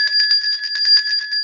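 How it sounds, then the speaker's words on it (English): A bell rings with a rapid, even trill of repeated metallic strikes, bright and sustained, loud and alone. "You rang the bell before we started"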